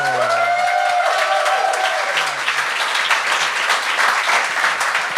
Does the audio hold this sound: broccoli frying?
no